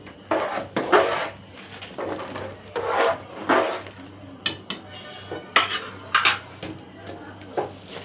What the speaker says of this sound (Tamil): இப்போ அரிசியை போட்டுருவோம்.